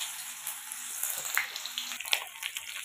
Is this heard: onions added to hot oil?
yes